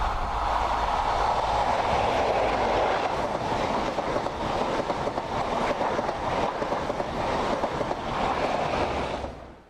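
High Speed Train hauled by Class 43 power cars re-engined with MTU diesels, passing close by with a loud, sustained rumble and steady clattering of wheels on rail that holds for nearly ten seconds before cutting off.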